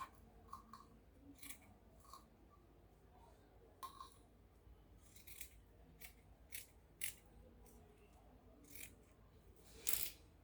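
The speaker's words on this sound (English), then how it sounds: "I'm going to go ahead and cut it out." Scissors snip through ankara fabric for a sleeve of a bustier gown, a series of short, sharp cuts spaced irregularly, fairly close and quiet, with a louder final snip.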